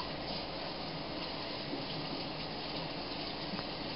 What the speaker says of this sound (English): So I'm going to go ahead and start rinsing it.